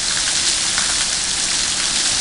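Hail about the size of peas or marbles drums on a carport roof in a Dallas–Fort Worth winter storm, a constant close, loud rattle of tiny hits with no speech over it.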